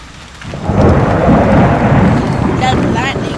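Heavy rain and a deep rolling rumble of thunder in the horror video game Haunted Memories, loud and continuous, with a brief electronic tone near the end.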